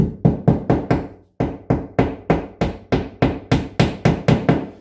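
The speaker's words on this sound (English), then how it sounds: "I'm trying to be a little careful here, not to hammer these anchors in too hard." A steady run of sharp hammer blows driving wall anchors, about three per second, loud and close, with one short pause near the start.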